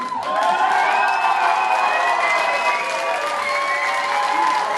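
A crowd applauds steadily and loudly for several seconds, dense clapping with a few cheers mixed in.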